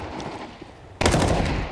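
A Desert Eagle pistol shot in a Counter-Strike pro league match bursts out loud and sharp after a quiet lead-in, with a ringing tail and no talk over it.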